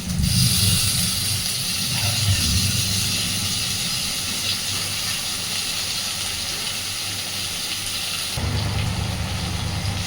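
Onion and small shrimp frying in a pan produce a continuous, loud, steady sizzling hiss that holds throughout, with a slight shift in tone near the end.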